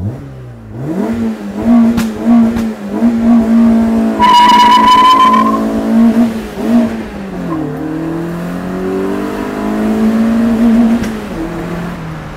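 A loud Peugeot 106 engine, swapped for a 1.6 16-valve engine, revs hard and climbs in pitch as the car pulls away from a standstill, briefly drops at a gear change, then climbs again, with a squeal of tires.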